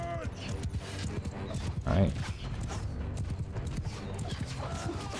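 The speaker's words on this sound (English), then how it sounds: "Horse archers are coming up. Cavalry." Cavalry and horse archers charge across a Mount & Blade II: Bannerlord battlefield, hooves clip-clopping in a steady busy rhythm under game battle noise, with someone commentating over it throughout.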